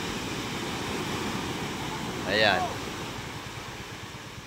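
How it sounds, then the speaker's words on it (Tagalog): Big ocean waves roll onto the shore at Julugan, Tanza, Cavite as a broad, continuous roar of surf close by. Someone speaks briefly over it partway through. "Lalaki ng ating alon."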